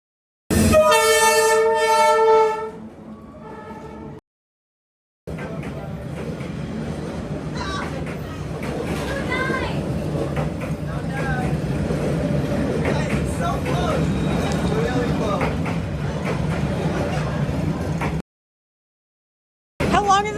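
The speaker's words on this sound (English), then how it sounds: "How long is this train?" A train on a busy Hanoi Old Quarter street sounds a loud sustained horn, then rumbles past for over ten seconds in a heavy, steady roar close by before cutting off.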